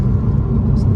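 Subaru WRX boxer engine idling or revving as a steady, loud low rumble up close, a constant drone with no clear rise in pitch and a brief faint whir near the end.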